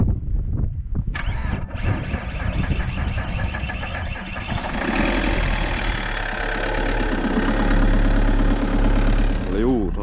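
A car engine cranks and catches after a jump start with a new battery in a parking lot in Kuusamo, then settles into a loud, close, steady idle with a voice talking over it early on.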